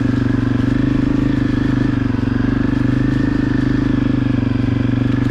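A Honda CRF250F dirt bike ridden through autumn woods, its engine droning steadily and loudly up close at a constant pitch with no change in revs.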